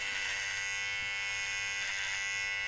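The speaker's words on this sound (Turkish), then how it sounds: "Hani ses fazla mı geliyor bilmiyorum ama normal yani bir tıraş makinesine göre." An Aprilla hair and beard trimmer runs steadily during a beard shave, giving a close, continuous electric buzz with no break or change in pitch and no voices over it.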